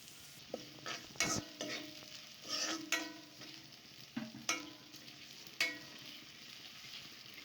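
Onions and spices frying in a pan, a quiet sizzle under several sharp scraping stirs and clinks of a spoon against the pan, spaced irregularly and with no voices.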